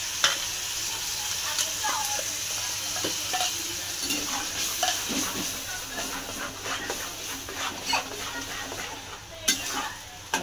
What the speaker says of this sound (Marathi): टमाटा आणि कांदा आपला तळत आला बघा, तेल सुटलं